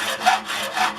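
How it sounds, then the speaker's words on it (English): A hacksaw cuts with quick back-and-forth rasping strokes, loud and close, about two strokes in a second. "The way you start a hacksaw"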